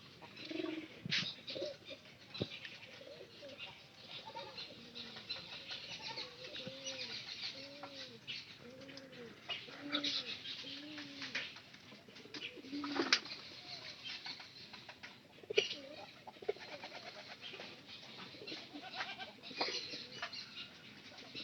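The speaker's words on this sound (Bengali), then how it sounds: "আর এটা হলো পায়রা।" Pigeons cooing softly in a loft, a run of repeated low rounded coos at a steady rhythm, with occasional wing flaps and rustling around them at moderate distance.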